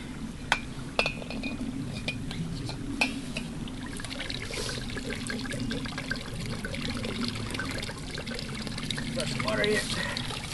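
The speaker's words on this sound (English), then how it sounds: "Just gotta fill up my canteen here" Fresh water trickles and gurgles into a canteen outdoors, a soft steady pour with occasional clinks and splashes, fairly faint against background noise.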